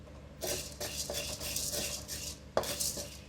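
Chana dal and urad dal sizzle and rattle in a kadai over a medium flame, with several bursts of scraping and stirring, close and moderately quiet.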